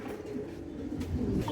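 Black Mundian pigeons coo softly at a pigeon farm, low throaty calls repeating close by with faint background noise.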